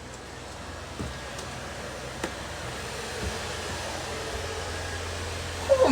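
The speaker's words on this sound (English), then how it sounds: "There's two air conditioners running." Two air conditioners run inside a converted shuttle bus, a soft, even whooshing hum throughout, with a few faint clicks and knocks and a brief louder bump at the very end.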